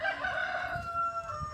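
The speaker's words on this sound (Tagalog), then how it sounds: "So, narinig niyo po yung mga manok." Chickens and a rooster crowing at a farm in Tagaytay City, a strained crow with harmonic tones rising over softer clucking and background rustle, fairly close and steady across a short moment.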